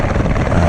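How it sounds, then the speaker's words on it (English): Helicopter taking off up a valley on a heli-biking trip in the Kaimanawa ranges, a steady loud rotor and engine roar filling the short moment with no talk. "Helicopter's just taking off up the valley there."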